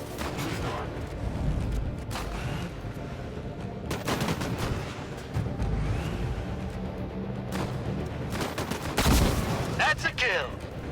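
Rapid bursts of gunfire and explosive blasts from the sci-fi shooter video game Disintegration, repeated across the clip with a dense rumbling battle bed and a sharp whooshing burst near the end.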